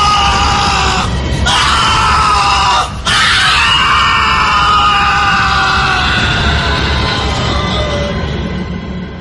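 A man screams and yells loudly in pain, as if his hand has broken, giving long, strained cries with a brief break partway through over a rough, noisy background.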